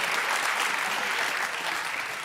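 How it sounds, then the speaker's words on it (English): Steady applause from an esports crowd at a League of Legends match, clapping continuously at an even level throughout with no pauses. "Do we get an applause for the try?"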